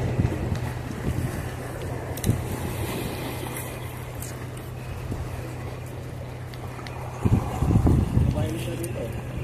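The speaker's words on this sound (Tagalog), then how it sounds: "Lakas na ng hangin eh." Steady strong wind at sea buffets the microphone over a low boat engine drone, with gusts and rumbling bursts near the end.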